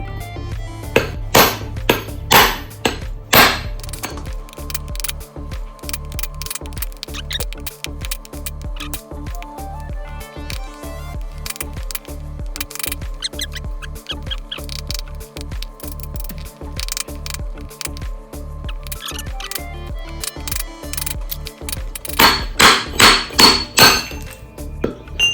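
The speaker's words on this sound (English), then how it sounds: "Let's try a bigger chisel, not a smaller one." Hammer striking a chisel against a Moroccan geode, a long run of sharp rapid metallic blows with a few louder bursts at the start and end.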